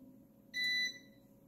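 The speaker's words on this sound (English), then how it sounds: "every 10 seconds you can hear a beep." A Bitmore U850LCD line-interactive UPS gives one short, high electronic warning beep that stands alone over faint background hum.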